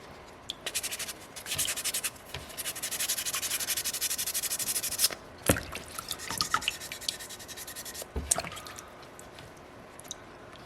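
Sandpaper rubs steadily over a small soapstone wolf carving, a close, continuous gritty scraping that breaks off into a few wet taps and scuffs near the end, with no voices.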